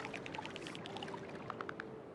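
Water being placed in the game Terra Nil: a quick series of bright, bubbly plinks and glugs in an even rhythm, fairly faint and close, over a soft steady background.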